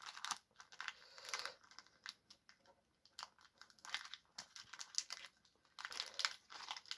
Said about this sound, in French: je fais une petite ouverture horizontale pour pouvoir préserver le plus possible le packaging du booster